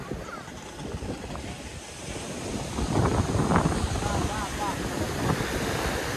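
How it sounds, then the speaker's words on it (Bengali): Sea waves surge and break on Digha beach, a continuous roar that swells louder toward the middle, mixed with heavy wind rumble against the microphone. "দেখো কি ঢেউ"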